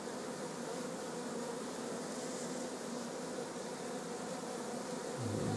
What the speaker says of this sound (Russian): Вот здесь посмотрю, как пчелки летают.